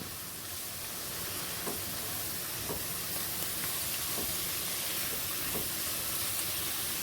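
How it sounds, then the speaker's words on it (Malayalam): Minced beef sautés in a pan with onion, tomato and a handful of coriander leaves for stuffed paratha filling, making a continuous dense sizzling hiss with a few faint stirring scrapes, steady and unbroken throughout. "ഇതിലേക്ക് നമുക്ക് ഒരു പിടി മല്ലിയിലയും കൂടെ ഇട്ട് കൊടുക്കാം. വീണ്ടും വഴറ്റാം."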